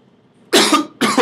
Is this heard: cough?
yes